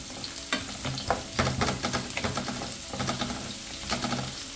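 Onion frying in heavily smoking palm oil for egusi soup, a continuous close sizzle punctuated by rapid clattering stirring strokes of a spoon in the pan.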